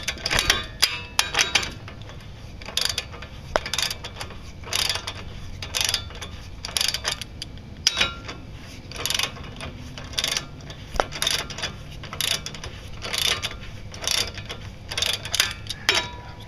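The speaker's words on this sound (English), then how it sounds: "try to extract it by simply cranking it with a ratchet" A hand ratchet is cranked to pull a stuck brake caliper pin out in a garage. Rapid clicking bursts of the pawl repeat steadily in close, loud strokes with brief pauses between runs.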